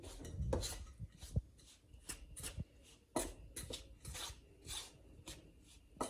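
A spoon scrapes and clinks around a bowl while almond sponge cake batter with powdered sugar and baking powder is mixed, irregular close scraping strokes and sharp taps alone in a quiet room.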